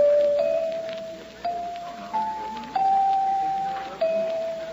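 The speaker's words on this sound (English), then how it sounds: "Wonder how much these chimes are." Shop chimes in a radio drama ring out in several separate struck tones, each a clear sustained pitch that fades slowly, close up and alone.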